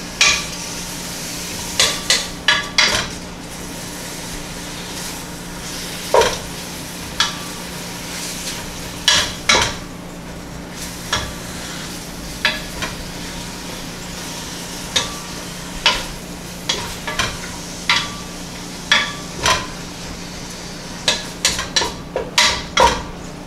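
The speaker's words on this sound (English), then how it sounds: "Like look, it's already pretty much browning up and cooking" Pork belly sizzles steadily while browning in a pot for kimchi jjigae, with a spoon or spatula scraping and clanking against the metal at irregular intervals, close and fairly loud.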